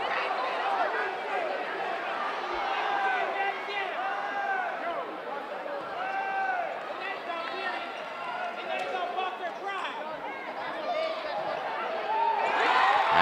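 Lively crowd at a boys' high school playoff basketball game in Taunton, a steady roar of cheering and chatter from fans on their feet, with sneakers squeaking and a ball bouncing throughout, swelling louder near the end.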